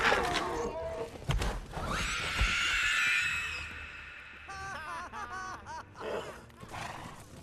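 Horses whinny loudly amid rushing, roaring noise in the video game Lego The Lord of the Rings on PS3, with a shrill neigh and hoof-like thuds.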